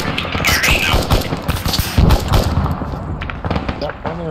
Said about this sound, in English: It's a machine gun on the fucking ridge.